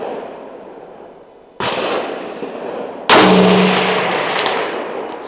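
A Ruger American Ranch .300 Blackout rifle fires: a sharp, loud report followed a moment later by the distant ring of a steel target hit, each with a long rolling outdoor echo.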